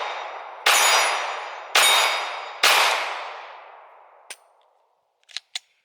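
A pistol fires three sharp, loud shots at an outdoor range to empty the magazine, each with a ringing decay, followed by a few faint metallic clicks.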